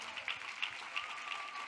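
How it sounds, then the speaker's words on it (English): Steady clapping from a crowd at a church gathering, a dense, even patter of many hands that keeps going throughout at a moderate distance, with no voices on top. "Oui, acclamez très fort."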